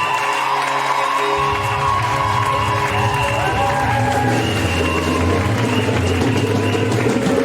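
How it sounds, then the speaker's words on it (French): A church congregation at a Sunday service applauding and cheering, continuous loud clapping with whoops and shouts and a rumbling low-pitched background lasting over seven seconds. "Est-ce que tu peux donner une acclamation à Jésus sur ce que tu fais maintenant?"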